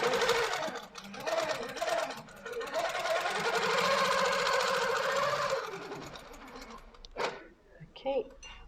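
A sewing machine runs steadily, stitching a straight line along the binding of a quilt in a quilting showroom. The stitching hums for about six seconds, then stops, followed by a few brief clicks and voices talking.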